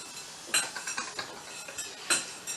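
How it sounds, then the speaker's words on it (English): Whisk clinking against a bowl of buttermilk pancake batter with salt, a series of light, uneven metallic taps and scrapes heard up close at a moderate, irregular pace. "Now give it a whisk together."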